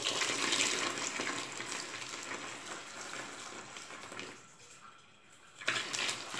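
Four litres of cold water poured or running into a container for homemade liquid soap, a steady broadband splashing rush that fades briefly near the end before resuming.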